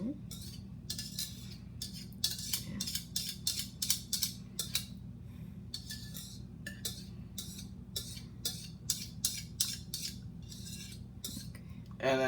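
Eggs whisked in a small bowl for scrambling, a rapid, steady run of light metallic clinks and scrapes against the bowl, continuing close and even over a low background hum.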